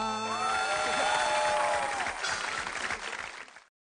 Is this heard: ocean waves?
no